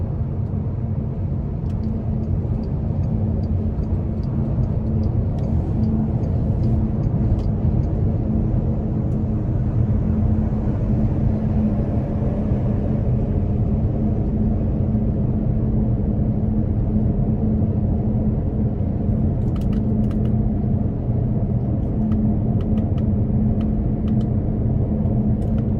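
A deep, steady twin-turbo W12 engine rumble drones continuously from inside a moving Bentley Flying Spur Speed, smooth and low with faint road noise and no talking.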